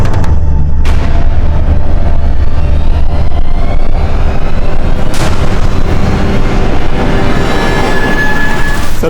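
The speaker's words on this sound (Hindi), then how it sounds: "सर, उस तरफ से गोली चली थी।" Two sharp, loud gunshot bangs, a few seconds apart, crack over a constant, dense, heavy rumble.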